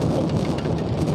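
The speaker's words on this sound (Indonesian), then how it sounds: "Sebelah sana hujan keras." Heavy rain pours steadily in a dense, even roar, close and loud throughout, with no voices over it.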